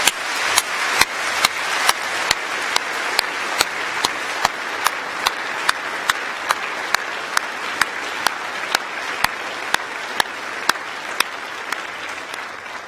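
A graduation audience at a University of York ceremony applauds university staff with steady, sustained clapping, many hands blending into a continuous wash with sharper individual claps throughout.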